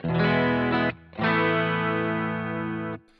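Two sustained electric guitar chords ring out on a clean setting through a Boss GT-1 multi-effects processor, shimmering and processed, the first cut short, the second held for about two seconds.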